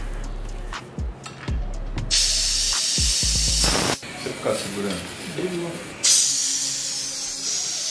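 Steel wool electrified with a coin catches fire and burns, giving loud broadband hissing and spraying bursts that rise and fall, with a sharp flare near the end, while people talk excitedly over it.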